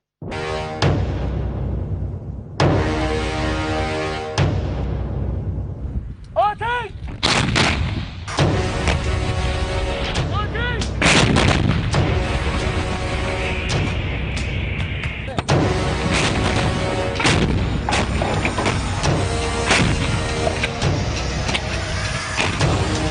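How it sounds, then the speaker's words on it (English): Azerbaijani army artillery fires repeated heavy booming blasts, some close and loud, with rumbling echoes, vehicle noise and people talking in between. "Azerbaijan army units deliver artillery strikes on enemy's positions."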